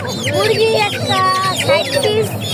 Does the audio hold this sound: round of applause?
no